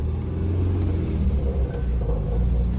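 An Austin Maestro car drives over a speed bump, heard from inside as a steady, loud low engine and road rumble with no clear separate thump from the bump.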